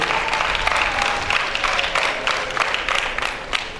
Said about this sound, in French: Applaudissements pour eux, s'il vous plaît, mesdames et messieurs